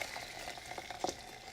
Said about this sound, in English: As I drip some coffee here.